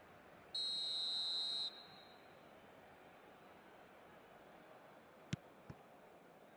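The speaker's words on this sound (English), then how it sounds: "And the whistle's gone, presumably for offside." A single steady referee whistle blast of about a second in an eFootball soccer match, clear over a quiet low crowd murmur, followed later by a couple of short clicks.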